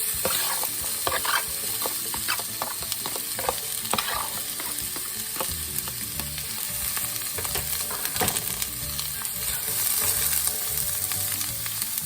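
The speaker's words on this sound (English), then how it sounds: "Now that I got my oil hot, I'm going to add my onions." Onions fry in hot oil with a continuous crackling sizzle, broken by scattered scrapes and clicks of a utensil stirring the pan.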